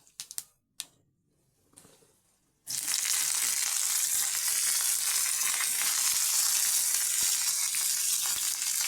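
Fennel seeds and curry leaves hitting hot oil in a pan: a few sharp clicks and taps, then a sudden burst into a loud, continuous crackling sizzle that keeps going.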